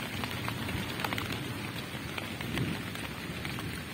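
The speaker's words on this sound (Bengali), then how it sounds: "বৃষ্টি নামতেছে।" Rain pours down in a Bangladeshi village after intense heat, a dense steady hiss with scattered louder drop impacts and a faint low rumble underneath, no one speaking.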